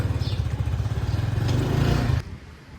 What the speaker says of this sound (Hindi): चलो जी, चलाओ बाइक।